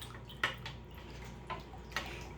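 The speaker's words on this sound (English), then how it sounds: "We're going to give it a good stir." Lime being stirred into a container of water for water glassing eggs, with faint sloshing and a few sharp clinks and taps of the stirring tool against the vessel, quiet and close with no talk.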